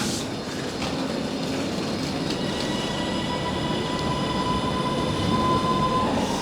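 A train pulling into Oxford Road station in Manchester rumbles steadily along the rails with a faint high wheel squeal, the carriage noise continuous and close, as if riding inside.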